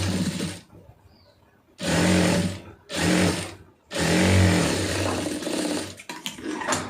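Sewing machine stitching a lightly folded fabric hem, running in three strong bursts of close, steady motor whir separated by short quiet gaps, the last run longer; no talking.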